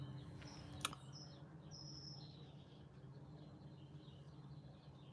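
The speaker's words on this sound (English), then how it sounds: "But all the birds are out today." Outdoor birds chirping faintly in the distance, a few short tweets over a low steady background hum, with one brief sharp click near the start and no speech.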